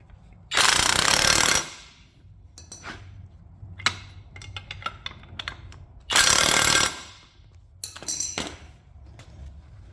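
An impact wrench tightens a bolt on the rear trailing arm of a 2008 Pontiac G6, two loud rattling bursts about a second long each, separated by light clinks of tools and metal parts.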